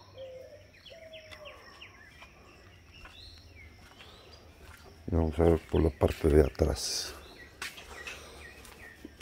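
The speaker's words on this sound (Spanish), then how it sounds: "Si pueden escuchar al fondo los pájaros." Soft bird chirps and calls in the distance behind a nearby voice, with a steady insect hum throughout, outdoors by a mango tree in El Salvador.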